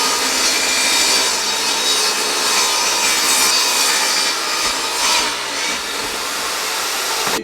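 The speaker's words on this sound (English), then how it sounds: "now what we're doing is cutting the height of the board to build the frame" A saw cuts steadily through wooden boards for a truck camper's platform bed frame, a close, loud, continuous rasping that runs the whole stretch with slight dips in intensity and no talking.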